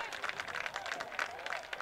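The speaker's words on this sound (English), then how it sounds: "that's got this big Woodland crowd fired up" Crowd at an 8th grade football championship game cheering and clapping, a dense, steady roar with scattered claps under speech from a play-by-play announcer.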